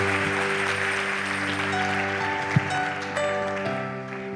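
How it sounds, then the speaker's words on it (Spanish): A church congregation applauding during worship, a sustained wash of clapping heard under steady organ or keyboard chords, moderately loud and continuous throughout. "Dele un aplauso al Señor, que es lo que hay allá."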